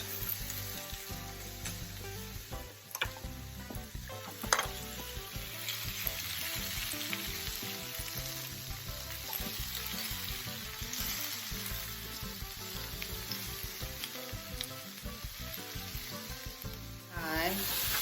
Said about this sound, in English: I'm gonna let those saute for a couple minutes so they're nice and soft